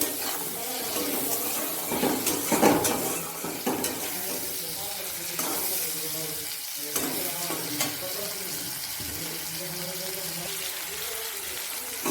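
Onion, ginger and garlic sizzle in a hot pan, a continuous crackling fry with intermittent scraping stirs close by.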